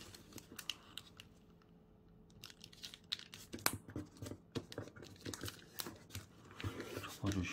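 Crisp crackles and crinkles of origami paper being folded into a square pocket fold, short irregular bursts close by that grow busier toward the end, with no talking over them.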